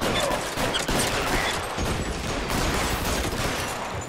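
Sustained gunfire in the L.A. Noire video game, a dense, continuous barrage of shots filling the whole stretch at steady loudness with no pauses or talk.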